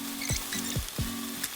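Garlic paste hits lightly fried onions in a hot pan for a liver and gizzard dish, giving a steady close sizzle broken by three sharp, evenly spaced stirring scrapes.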